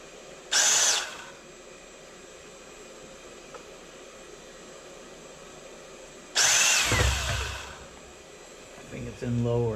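Battle Pack gun drive motor running in low gear, two loud whining bursts of a second or so each, separated by quiet hum, with a brief rattle near the end.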